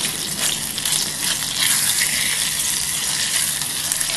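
Blanched pork hisses and sizzles loudly in spicy chili oil as it is stir-fried for Korean braised pork ribs, a steady close frying roar with no talk.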